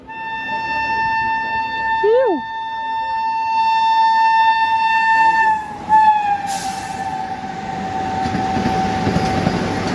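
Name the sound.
Ajni–Pune Vande Bharat Express train crossing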